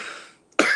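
A single short cough bursts out near the microphone after a moment of quiet, following a trailing breathy vocal sound, during a relaxed podcast-style chat.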